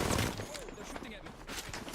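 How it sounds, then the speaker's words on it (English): Video game gunfire during a ranked match, quick shots crackling beneath a talking voice in a short, busy moment. "They're shooting at me."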